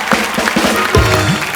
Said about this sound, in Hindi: तो जोरदार तालियां प्लीज।